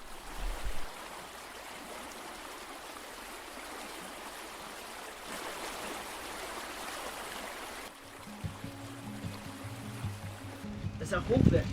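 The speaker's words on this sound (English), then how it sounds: "The water was flowing again and real spring finally" Spring meltwater runs in a stream in Norway, a steady broadband rush that holds for most of the clip before other sounds and voices come in near the end.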